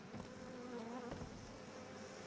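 Dense insect buzzing from a swarm of bees fills the scene in the horror game Outlast 2, a steady, close, continuous drone with no voices.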